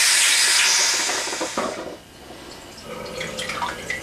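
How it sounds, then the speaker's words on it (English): Water rushes through the pipes and cistern of a static caravan after the ball cock is pushed down during a drain-down. A strong, steady hissing flow is heard close up, easing briefly midway before resuming. "You'll hear the water coming through."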